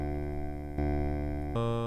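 Sustained voice-made synth chords, built from a human voice to remake a track, ring out with reverb and shift pitch twice in under two seconds, steady and fairly quiet with no talk.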